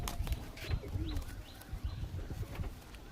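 Pigeons in a loft of high-flying birds coo softly, with scattered chirps and soft rustling, fairly quiet and close.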